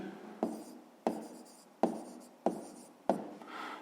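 A pen writes a fraction on paper in a series of five short scratching strokes, close and quiet, spaced roughly evenly with brief pauses between them and no talking.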